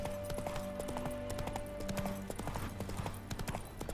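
Horse hooves clip-clop steadily in the video game The Witcher 3, a rapid and continuous beat that sits over a low ambient hum and tonal game music, with no voices.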